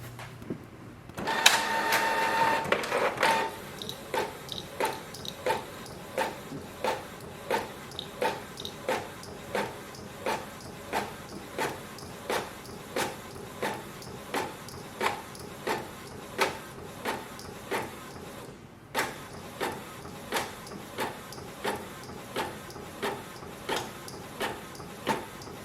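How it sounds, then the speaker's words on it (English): A Canon Pixma MG3620 inkjet printer runs a page, opening with a brief whir of startup then settling into a steady, regular series of mechanical clicks and clunks from the paper feed and print head, close and alone. "click on the print button. And wait for the printer."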